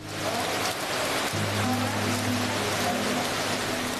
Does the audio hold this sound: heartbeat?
no